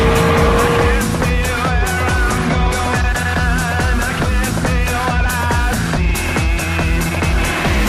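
A BMW M3 E92 in its M button mode roars loudly up close, the engine revving through rising and falling sweeps of pitch without a break, and nobody speaks.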